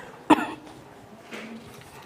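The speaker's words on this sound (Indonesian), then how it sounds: "Ini batuk ini, terlalu semangat." A single sharp cough bursts out, short and close, during a student group presentation in a classroom, followed by a faint, softer throat sound a moment later in an otherwise quiet room.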